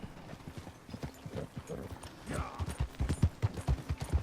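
Rhythmic clip-clop of horse hooves trotting at close range in Red Dead Redemption 2, the steps growing louder and quicker, with a brief whinny-like tone partway through.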